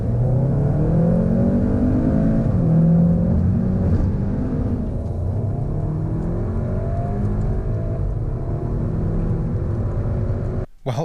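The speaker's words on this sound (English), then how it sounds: "Let's see how much of a difference that makes on the 30 to 70 sprint." A VW Golf accelerates hard from 30 to 70 mph, its engine note climbing through repeated rising sweeps as gears change, loud and close inside the cabin, then cutting off sharply at the end.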